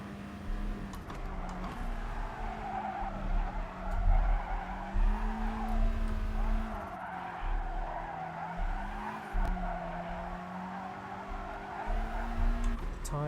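Race car tyres squealing and skidding in Gran Turismo Sport, a sustained, wavering screech over a steady engine drone that rises and dips throughout, fairly loud and close.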